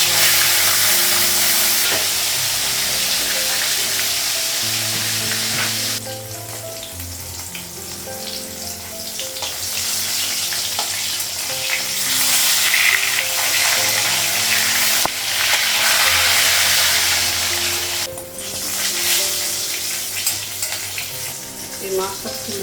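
Fish coated in turmeric and chilli powder sizzle loudly and steadily in hot oil in a pan, with a continuous close frying hiss and occasional stirring and shifting sounds, and no talking.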